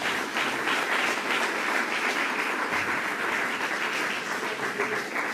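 A church congregation claps together during a service. The applause is a dense, sustained wash of many hands, steady and fairly loud throughout.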